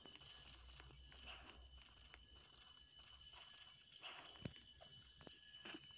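A faint, steady electronic alarm in a video game rings continuously in the background, thin and high-pitched, with occasional clicks and soft thumps over it.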